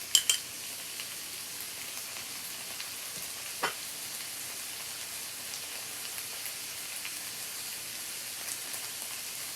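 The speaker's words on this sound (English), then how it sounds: "now I'm going to add in my 2 tablespoons of tomato paste" Tomato paste frying in a pan, a steady soft sizzle with a faint clink near the start and a brief scrape of stirring midway, otherwise continuous and even.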